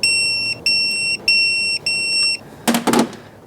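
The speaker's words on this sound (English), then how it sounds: "now you should hear the beep once I've reached 15 Newton meters" A torque wrench used in a cam phaser rebuild on a Mercedes C63 beeps on reaching 15 newton meters: four evenly spaced, loud electronic beeps followed by a short clatter.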